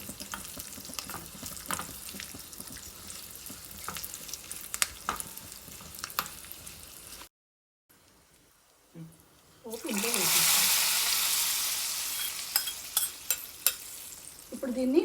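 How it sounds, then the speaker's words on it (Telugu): Curry leaves and asafoetida fry in a pan, a close sizzle with scattered spatula scrapes, then a brief silence before a louder, hissing burst of frying with sharp stirring clicks. "నీట్గా ఫ్రై చేసుకొని"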